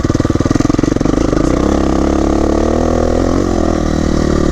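A KTM 350 EXC-F dirt bike engine starts with a rapid pulsing chug, then settles into a loud, steady, buzzy drone as the rider moves off, close to the microphone.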